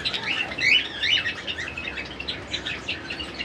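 Cockatiels in a bird farm in Howrah, a busy overlapping chorus of high chirps and tweets from many birds, moderately close and continuous.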